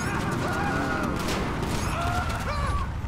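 Chaotic gunfire during a Grand Theft Auto V shootout, dense crackling shots blending with crashes and a muffled, busy din, loud and continuous across the moment.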